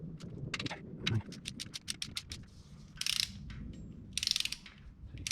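A ratchet wrench being cranked down on a bolt on a Suzuki SX4 engine, delivering quick bursts of sharp clicking strokes in irregular runs, close and clear with no talking.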